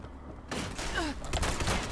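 Robots open fire in Fallout 76, a burst of gunshots and impacts starting abruptly and continuing in loud, dense volleys with a brief sweeping electronic tone in the middle.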